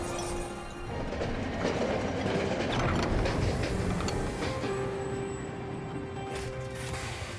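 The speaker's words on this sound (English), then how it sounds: "The train stops near some familiar crystals." A train in the video game Monster Train rumbles and clatters as it slows to a stop, a loud continuous mechanical roar with rattling and a sustained metallic squeal settling toward the end.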